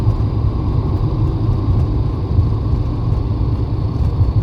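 A Porsche 924 cruising at 70 mph on a dual carriageway at just over 3,000 rpm, heard from inside as a loud, steady engine drone and road rumble with no talk.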